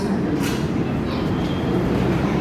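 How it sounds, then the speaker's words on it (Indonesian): The Airlangga passenger train rolls into Surabaya Pasar Turi station with a loud, continuous rumble that fills the platform, steady and unbroken throughout. "kereta api Airlangga pun tiba"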